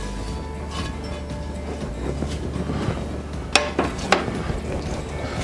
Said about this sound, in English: And really scrape the bottom of the pan